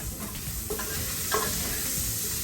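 Garlic fries in oil in a pan for a Brazilian tripe stew, a steady close sizzle with soft stirring scrapes and clicks running throughout.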